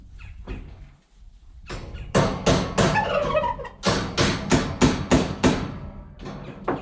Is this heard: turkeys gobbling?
yes